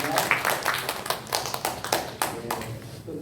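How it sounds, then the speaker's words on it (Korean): Congregation applauding at a church worship service, with scattered uneven handclaps and taps rising and falling over a few seconds. "우리 하나님께 감사의 영광의 박수를 드리겠습니다."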